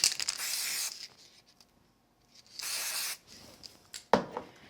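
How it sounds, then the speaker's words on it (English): Two hissing bursts of spray adhesive from an aerosol can, close by, about a second each with a pause between, followed by a light tap. "So I'm just going to give them a quick spray with some adhesive."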